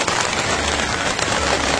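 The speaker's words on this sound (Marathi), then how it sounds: "रात्रभर खूप पाऊस पडतोय" Heavy overnight rain pours down steadily near Khopoli, a dense, continuous hiss of drops drumming on surfaces with no pauses.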